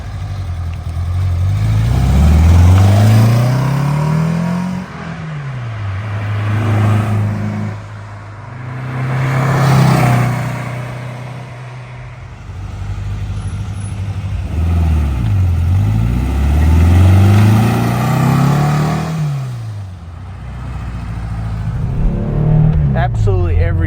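A 1963 Porsche 356 Carrera 2 Coupe roars past repeatedly, engine revving and pitch sweeping down as it passes close by, loud and repeated.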